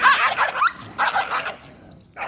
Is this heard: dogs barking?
yes